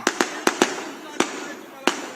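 Firecrackers burst at a political rally in Sangola, giving six sharp, loud cracks in an uneven sequence, some in quick pairs and others spaced apart, over a faint background of voices.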